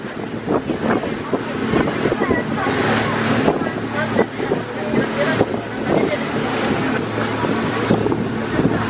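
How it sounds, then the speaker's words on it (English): A boat pulls in to carry passengers to an island off Bali, its engine rumble mixed with steady wind buffeting and water noise, continuous and fairly loud throughout. "This is our boat that just arrived to take us to an island."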